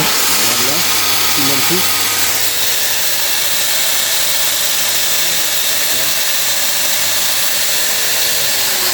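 Steel being ground with a power grinder, throwing sparks: a loud, steady abrasive whine that runs nonstop, with a voice speaking briefly early on.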